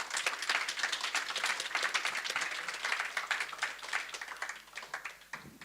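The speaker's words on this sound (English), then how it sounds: "can we just give one final round of applause for everyone who's participated?" Audience at an international rehabilitation forum in Lviv applauds the participants, a dense, steady clapping that fills the room for several seconds before thinning out at the end.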